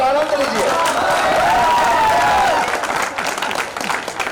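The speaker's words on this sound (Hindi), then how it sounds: "एक बार ताली बजाइए और आनंद लीजिए।" Loud, dense audience applause at a live public gathering, a steady wash of clapping mixed with crowd voices and cheers, close and continuous before easing slightly near the end.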